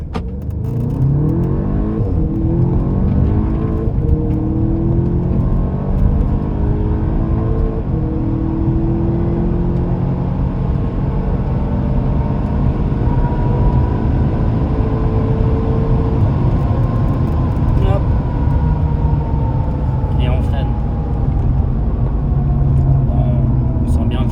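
Volkswagen Arteon with a 280 hp 2.0 TFSI engine and 4Motion accelerating hard on an open road, engine note climbing through several gears with rising sweeps and brief dips at shifts, loud inside the cabin.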